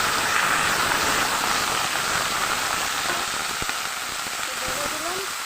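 Onion stalks and chopped potato fry in a pan with black cumin and chilli, giving a steady, loud, close sizzle that holds unbroken throughout with a few faint clicks.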